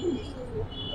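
Pigeon cooing at a loft among Giribaz and colored fancy pigeons, a soft low coo running through the second, fairly close, with faint background noise and no speech.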